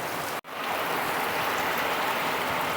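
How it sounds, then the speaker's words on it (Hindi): Heavy rain pours down outdoors during a monsoon road trip near Maithon Dam in Jharkhand, a loud, steady hiss with only a split-second dropout near the start and no talking. "इतना बारिश हो रहा है"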